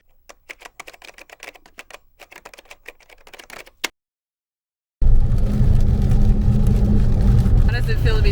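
Heavy rain and road noise roar steadily around a Dodge Challenger driving through busy traffic in the Caribbean, loud and continuous after a stretch of soft tapping sounds and a brief silence.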